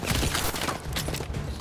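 Rapid gunfire from Call of Duty: Advanced Warfare forms a dense, continuous burst of shots that stays loud and close for the whole stretch, with no speech over it.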